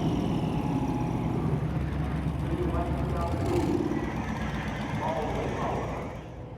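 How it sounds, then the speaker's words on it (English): A loud tractor engine rumbles steadily while grooming a drag strip at the Holley LS Fest West 2024 motorsport event, a constant low drone with crowd and voices around it. "The tractor that's cleaning the drag strip, it's so loud."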